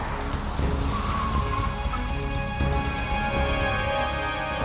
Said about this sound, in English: The driver weaves and turns with screeching tires